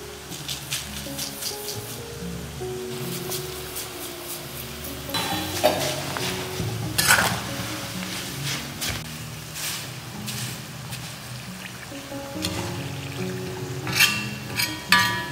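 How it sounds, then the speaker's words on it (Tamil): Herbs including black cumin and fenugreek seeds frying in coconut oil for a homemade herbal hair oil. Low bubbling sizzle runs throughout with scattered stirring scrapes and utensil clinks, louder in a few short bursts. "இப்போ வந்து தேங்காய் எண்ணெயில் போட்ட எல்லாமே நல்லா பொரிஞ்சிருச்சு"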